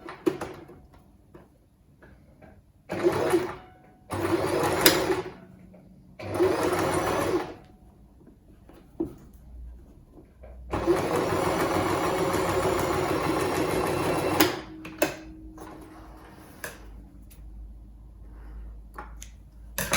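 A sewing machine stitches a homemade fabric face mask in several short bursts and one long steady run, its motor whirring and needle ticking up close, with pauses and handling noises between.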